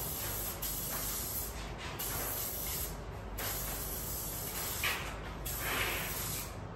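An aerosol can sprays in a continuous loud hiss, with a few slight breaks and shifts in pressure along the way.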